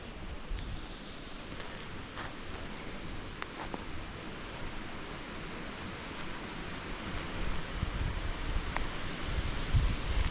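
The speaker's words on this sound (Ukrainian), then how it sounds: "вітрець дує" Soft breeze blows through an oak forest, a faint, continuous rustling wash that swells a little toward the end, with no one talking over it.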